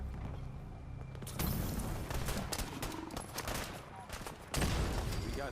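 A dense volley of gunfire in Fallout 4: Far Harbor, with defenders shooting into the fog at attacking gulpers. Loud overlapping shots and rapid bursts keep going without a break, with a voice briefly heard among them.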